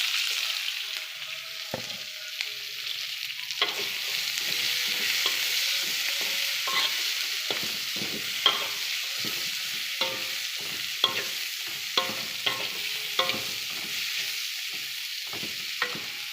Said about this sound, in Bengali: এখন আমরা পেঁয়াজগুলো সব দিয়ে দেব।